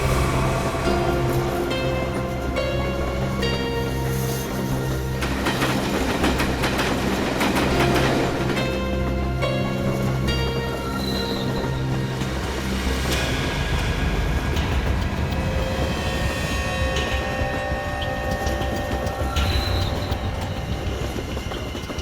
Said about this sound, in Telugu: నేను ఇప్పుడు ట్రైన్లోనే ఉన్నాను